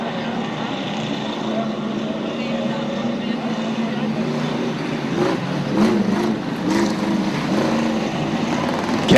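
A race car engine fires back up during a caution period, heard as a steady broadband roar of motor and track noise that swells slightly near the end, with a commentator talking over it throughout.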